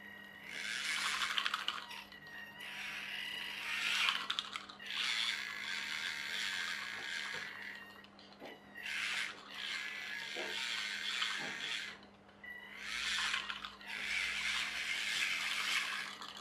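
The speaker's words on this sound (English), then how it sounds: "Yep, that's the right hand motor moving. Both moving back." Two brushed motors run through a bidirectional ESC, whirring in repeated bursts of a few seconds each with short pauses between, close and fairly loud, with a faint steady hum underneath.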